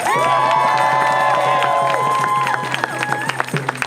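A crowd at an emergency street protest applauds and cheers for a speaker. Sustained voices and shouts ring out over rapid clapping, and sharper individual claps and whoops stand out as the noise breaks up toward the end.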